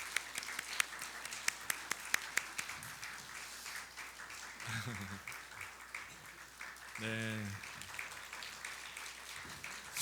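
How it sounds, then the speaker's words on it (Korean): A church congregation at a Sunday service claps in blessing, scattered sharp claps rising into a modest patter, while a brief spoken word and short musical tones break through partway. "우리 박수로 크게 축복하도록 하겠습니다."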